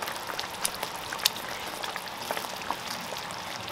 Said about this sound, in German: wenn die so aufploppt, so wie hier, dann ist das Ganze gut